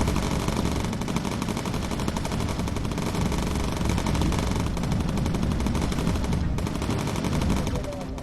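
Sustained .303 machine gun fire from a bomber's turrets in the World War II video game Bomber Crew, a loud, dense, continuous rattle of rapid shots lasting the whole stretch with no pauses.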